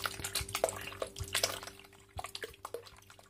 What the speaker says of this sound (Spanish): Ahora le voy a añadir el litro de agua y luego apretaré la gasa